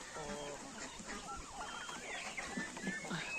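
Poultry on a farm, including a Bourbon turkey, calls out in a run of quick, nasal clucks and warbling notes, fairly close, over a steady outdoor background.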